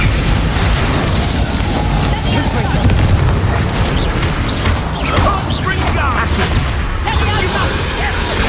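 Bombarda spell explosions in Hogwarts Legacy rumble as a constant loud booming roar amid heavy combat noise, with sharp bursts and crackles layered on top throughout, and a voice talking over the fight.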